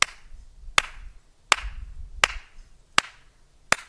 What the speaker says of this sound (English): So we can use our claps